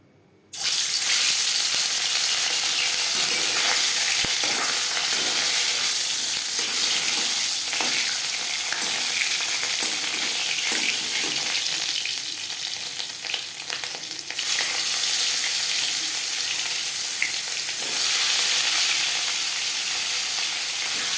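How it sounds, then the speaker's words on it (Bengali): Bhetki fish frying in hot refined oil in a pan, a loud, steady sizzle that starts abruptly and holds for about twenty seconds with small crackles throughout and no talking. "সবার প্রথমে আমি মাছ ভেজে নেব। এর জন্য আমি 4 চামচ রিফাইন্ড অয়েল গরম করে নিয়েছি।"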